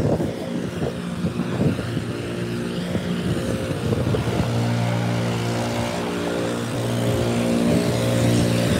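A leaf blower running nearby, a steady droning motor with a strong harmonic whine that holds loud and continuous throughout, mixed with outdoor background noise and no talking.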